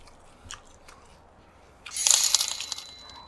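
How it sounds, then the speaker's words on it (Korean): Grilled mackerel with its skin being bitten and chewed, a short burst of close, crisp crunching that peaks near the middle and fades, with a few faint clicks before it. "생선 한번 먹어보겠습니다."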